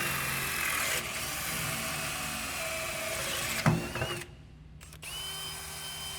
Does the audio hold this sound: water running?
no